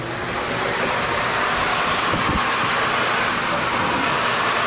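A central vacuum system with a Dyson floor nozzle runs on a bare floor, producing a loud, constant broadband rush of airflow and suction with a few low thumps as the nozzle moves.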